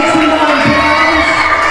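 A large pro wrestling crowd at the New Years Slam 3 event cheers and shouts loudly and continuously for the tag team champions the Boyz, a dense roar of voices with children yelling, close and sustained throughout.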